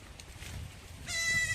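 A goat bleats once near the end, close and fairly loud, after a stretch of low farm background noise.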